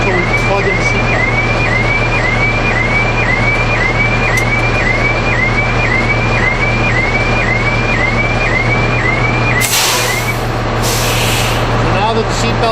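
Fire truck on a station tour rumbles with a loud steady engine drone while a rhythmic beeping alarm repeats, followed by a hiss of air brakes near the end.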